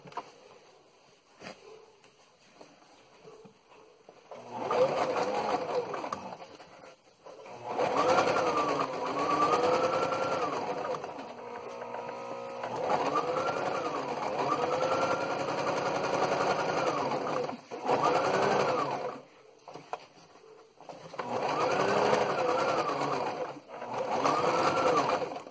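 A straight-stitch sewing machine sews a fabric cover in several whirring bursts of rapid, even stitching, separated by short pauses, close and steady, with no talk over it.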